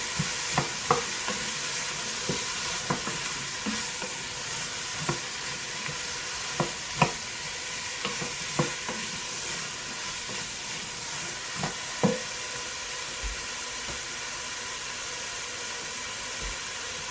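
Vegetables sautéing in a pot for a vegan lentil stew, a steady sizzling hiss with repeated clinks and scrapes of stirring spread through the whole stretch, fairly close and with no talking.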